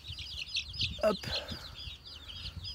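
A grey hen gives a few soft clucks on a small farm among visiting poultry, faint and close, while a person briefly speaks nearby and other fowl murmur in the background.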